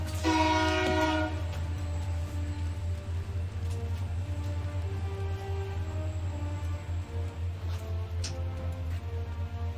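A train passes outside an open window, its horn sounding briefly at the start, then a steady low rumble of the rail cars rolling by for several seconds, moderately distant and continuous.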